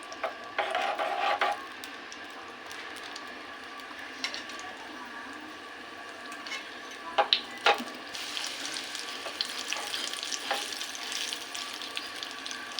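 Curry leaves hit hot oil in a pan for tomato masoor dal, bursting into a loud crackling sizzle that fades to a steady fry with occasional pops and stirring clinks.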